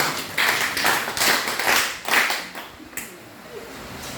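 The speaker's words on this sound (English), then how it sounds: "let us all give a hand of applause to them" Audience applauding student readers at an Anglican junior high school reading competition, a burst of clapping swelling and fading in waves over a few seconds at moderate distance.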